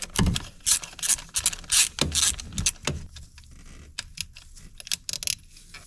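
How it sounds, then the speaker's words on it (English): A 7mm socket ratchet loosening the small ignition coil bolt on a 2004-2008 Ford F-150, with close clicking ratchet strokes in uneven bursts, sharp metallic ticks and short scraping rubs. "Now take a 7mm socket, remove the little bolt that holds the ignition coil on."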